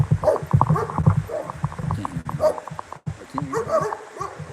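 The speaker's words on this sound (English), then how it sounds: "Just walking by some dogs." Dogs on a New Orleans street bark, yip and whimper nearby in short bursts, with a person talking in between.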